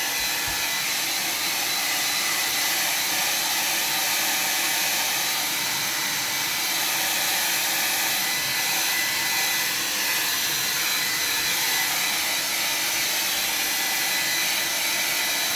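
A hair dryer runs steadily to dry a watercolor landscape painting, producing a continuous, close, even whooshing hum for the whole stretch with no speech.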